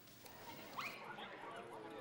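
Dogs at a Spanish agility championship in Ávila, faint distant barking and whimpering over a busy outdoor background hum, with a couple of brief yips.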